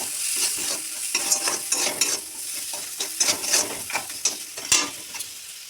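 Tomato masala with chilli powder, turmeric and salt frying in a pan while a spoon scrapes and stirs it, giving a steady bright sizzle broken by repeated close, irregular scraping strokes; no one speaks.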